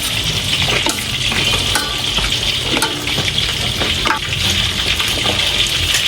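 String beans and okra are stirred into a hot pot for pinakbet, loud continuous frying hiss and bubbling with repeated scraping and knocking of the utensil against the pot, close and steady throughout.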